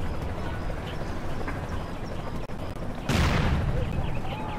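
Heavy cannon fire from a Spectre gunship in C&C Generals Zero Hour, a loud burst of booming shots breaking in after a stretch of steady battle rumble and scattered distant gunfire.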